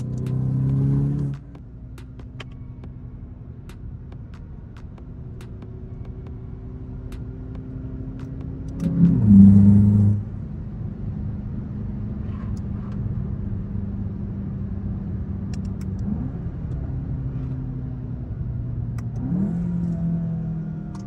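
A car engine revs repeatedly during manual downshifts on a late-night drive, a steady mid-pitched drone that rises in sharp bursts at each shift, one surge much louder, with no talking.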